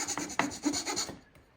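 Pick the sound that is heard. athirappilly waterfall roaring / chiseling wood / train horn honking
chiseling wood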